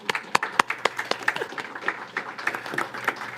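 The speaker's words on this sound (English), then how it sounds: "you can give yourselves a real round of applause for your generosity" Small gathering at a residents' association meeting clapping, a sparse, uneven scatter of individual hand claps with distinct sharp pops, close and moderately loud, tapering slightly toward the end.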